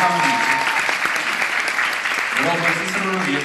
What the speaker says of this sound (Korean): 여러분 스스로를 위해서 박수를 주시고요.